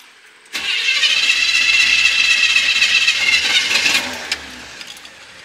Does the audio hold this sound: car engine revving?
yes